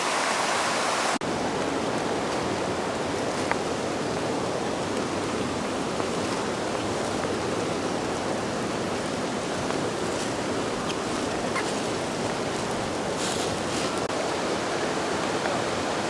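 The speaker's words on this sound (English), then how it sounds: "It's a beautiful falls" Biwa Waterfall in Kochi, Japan, roars in a steady, loud, unbroken rush of falling water, close by, with no talking throughout.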